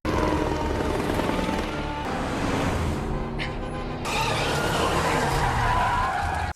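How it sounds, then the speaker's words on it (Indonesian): A police helicopter hovers overhead in a chase film scene, its rotor and engine a continuous loud drone mixed with car engine and skidding sounds, without speech. "sebuah helikopter polisi sudah menunggunya di atas"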